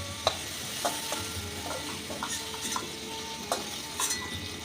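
Lightly fried prawns are lifted from a frying pan with a spatula, giving soft metallic scrapes and taps over a gentle background sizzle of oil.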